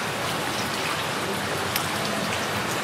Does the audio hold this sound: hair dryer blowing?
no